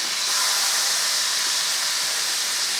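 Salmon fillets sear in a hot pan with a steady, loud, broadband sizzle that holds evenly throughout, with no voices over it.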